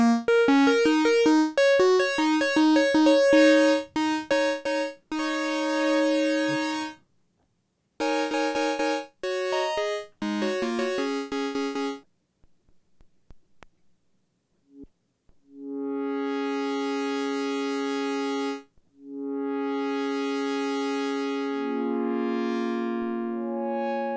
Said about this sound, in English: So we have a bass patch.